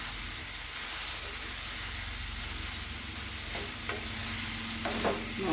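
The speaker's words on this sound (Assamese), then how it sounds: "ঢাকনিখন আঁতৰাই দিওঁ আৰু এবাৰ লৰাই দিওঁ। এয়া তেল ওলাই গৈছে ধুনীয়াকৈ।" Chicken pieces with papaya and curry leaves sizzle steadily in hot oil in a pan for an Assamese dish, a dense continuous hiss broken by a few scraping stirs near the end.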